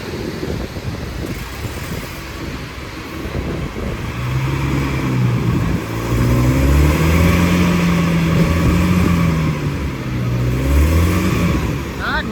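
A truck engine revving hard and droning steadily while towing a car stuck in mud, loud and close, the pitch rising and holding under strain with a background rumble.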